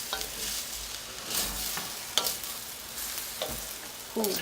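A wooden fork stirs shrimp in a wok: a steady frying sizzle carries a handful of sharp scraping and tapping strokes at irregular intervals, close and clear, with no talk.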